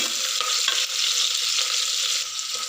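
Onion, green chilli and curry leaves frying in oil in a pan, a loud continuous hiss of sizzling with a few soft stirring touches.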